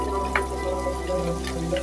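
Leafy greens dropped into hot oil with fried dried chilli, a steady close sizzle and hiss running throughout with a faint clink of the pan.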